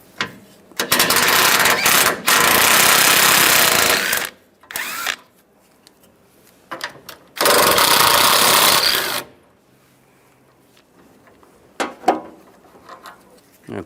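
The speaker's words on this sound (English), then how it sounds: "Use a 10mm socket," A power ratchet with a 10mm socket takes bolts off a power steering cooler on a 2007-2013 Chevrolet Silverado 1500. It whirs in loud, close bursts, two long runs plus a few short spurts with quiet gaps.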